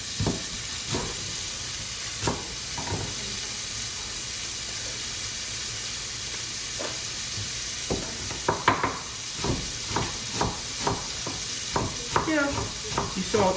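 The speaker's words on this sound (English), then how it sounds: "Let's get a little onion going." Chopped onions frying in a hot pan under a steady, close sizzle, broken by the repeated clatter of stirring and scraping that grows busier toward the end.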